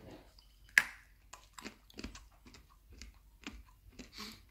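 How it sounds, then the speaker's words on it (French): Someone bites into dry, crunchy pet kibble: one sharp crunch comes first, followed by a quiet, irregular series of close-up chewing crackles. "J'ai toujours dit qu'un jour je goûterais des croquettes."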